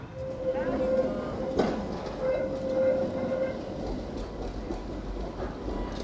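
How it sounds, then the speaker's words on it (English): A PCC tram on line 12 in Belgium rolls in with a steady rumble and a sustained high tone, a sharp clank partway through, while voices murmur nearby. "Here comes the line 12 train. It is a PCC tram"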